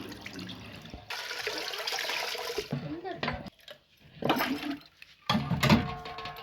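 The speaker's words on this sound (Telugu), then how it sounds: "ఇప్పుడు ఈ వాటర్ని ఇలా వంచేసుకోవాలి" Water gushes and splashes as it is poured off soaked rice into a sink for a couple of seconds, followed by shorter trickles and quiet talking.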